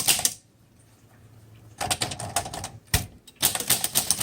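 A 1936 Corona Silent Flat Top typewriter being typed on, sharp bursts of rapid, close key strikes with mechanical clatter, split by a short pause, a single loud strike and another fast run.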